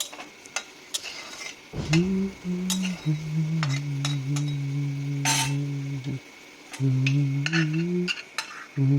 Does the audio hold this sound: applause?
no